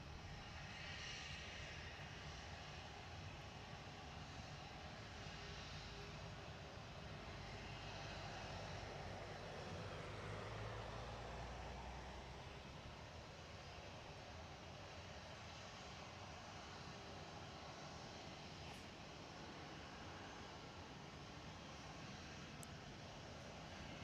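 A Ryanair jet airliner arriving from Budapest at Manchester Airport, its engines producing a steady, broad roar that swells slightly toward the middle and holds at a moderate distance with no talk.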